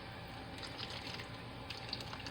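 Extra liquid poured in a thin stream around the edges of a Coca-Cola brisket in a crock pot, a steady soft trickle with no talk.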